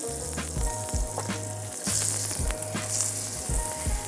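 Salmon frying skin-down in hot oil in a pan gives a loud, steady sizzle and crackle with scattered sharp pops, continuous throughout with no talking.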